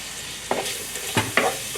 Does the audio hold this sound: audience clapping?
no